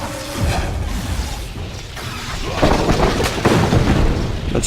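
An ice bolt spell is cast in the Kingdoms of Amalur: Reckoning video game, a loud sustained crackling rumble with whooshing bursts and mechanical clatter that swells toward the end.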